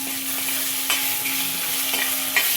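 Green chillies and onions with salt fry steadily in a pan, a continuous close sizzle with a few brief stirring scrapes and no voices.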